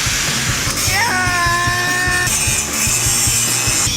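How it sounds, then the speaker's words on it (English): An angle grinder grinding a metal weld off, giving a loud, steady, continuous grinding roar with a whining tone that rises briefly and then holds, close by, with no pauses. "I'll go get the grinder. Angle grinding!"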